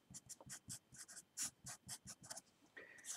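Chalk or marker writing on a board during a university math lecture on derivatives, with a steady run of short, quiet tapping and scratching strokes in an uneven rhythm, plus a faint brief tone near the end and no speech.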